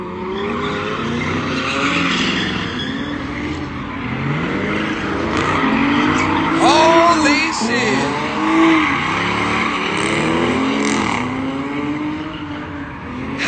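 Race cars roar around a smoky track, engines revving and rising in pitch as they pass close by, with repeated tire squeals and skids, while spectators talk excitedly over the din.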